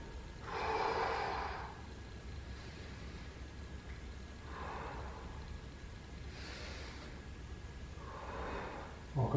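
Deep breathing during a back mobility exercise session: a few soft, airy inhales and exhales spaced out over a steady low background, with the first breath the strongest.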